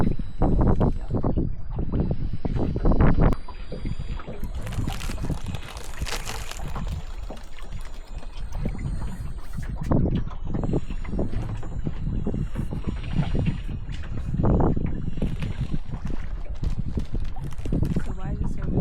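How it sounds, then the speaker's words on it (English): Strong wind buffets the microphone on a fishing boat out on the water, a loud, gusting rumble throughout, with people talking under it. "Why is it so windy?"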